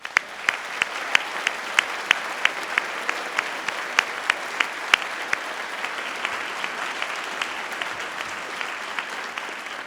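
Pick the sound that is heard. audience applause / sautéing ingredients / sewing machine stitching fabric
audience applause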